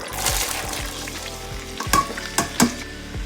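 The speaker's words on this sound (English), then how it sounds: "we wanna put about 3 to 4 tablespoons of vegetable oil. Add our potatoes in." Grated potatoes hit hot vegetable oil in a pan over medium-low heat, giving a continuous bright sizzle with a few sharper crackles and stirring knocks toward the end, close and clear with no talking.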